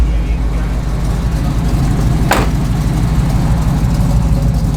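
A 1985 GMC Sierra Classic 1500 pickup with dual exhaust idles steadily, a deep, loud, even low-pitched rumble close by, with one brief sharp click partway through.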